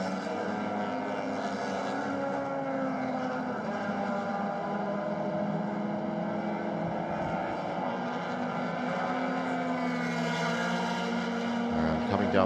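Race cars in the Malaysia Championship Series 2021, Round 3 Race 1, drone steadily down the back straight, with a continuous engine roar, distant and even, under faint commentary.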